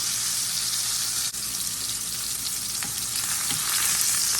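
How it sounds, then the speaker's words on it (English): Steak searing in a pan while pressed down for even contact, a steady loud sizzle and crackle running throughout with no talking. "I'm gonna make sure I'm pressed down on this to make sure it's evenly distributed so it'll sear perfectly."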